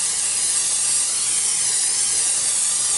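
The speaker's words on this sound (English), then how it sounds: "we will throw a little Pam in the pan" Pam cooking spray hisses steadily into a pan for a few seconds, a bright, even, close spray with no pauses and no talking.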